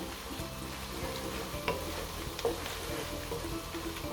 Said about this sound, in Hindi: लहसुन, प्याज को गोल्डन ब्राउन होने तक इसको भूनेंगे।